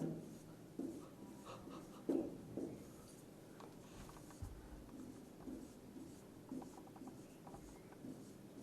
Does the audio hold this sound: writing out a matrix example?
yes